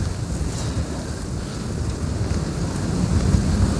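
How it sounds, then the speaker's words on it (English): Wind roars across the microphone during a mountain bike ride, a steady, dense rush with low buffeting that rises slightly toward the end, with no voices. "It's a little hard to hear with all that wind."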